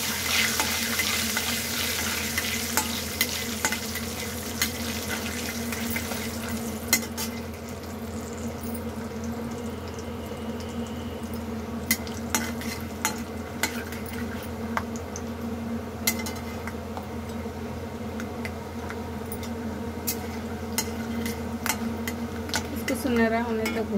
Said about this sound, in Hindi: सुनहरा होने तक भूनते हैं